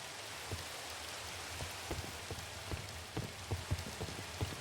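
Steady rain falls in the Minecraft video game, a dense, even hiss of drops on surfaces with scattered louder patters and soft thuds, heard alone with no talking.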